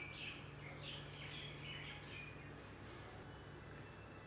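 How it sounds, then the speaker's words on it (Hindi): Faint bird chirps and tweets drift through an outdoor morning setting, clustered early on over a steady low background hum, with no voices. "चिड़ियों की चहचहाट"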